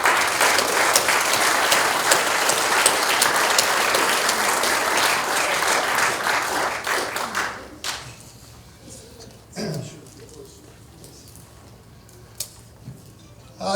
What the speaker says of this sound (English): Round of applause for Augusto